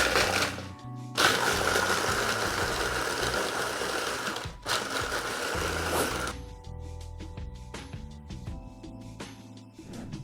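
A Ninja blender blending a coffee, cacao and whisky cocktail, running loud and close in a steady whirring roar with a brief pause, then a lower mechanical hum as it winds down.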